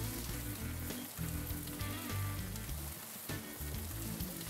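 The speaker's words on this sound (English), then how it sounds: "Once your tomahawks are seared on the bottom, turn them over" Beef tomahawk steaks searing on a grill, a steady, dense sizzle and crackle of fat throughout, fairly close, with no talk.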